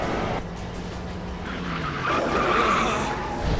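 Tires skid and squeal loudly as a car slides in the PS5 game Judgment, a sustained screech over engine roar that swells midway and holds to the end, with no talk.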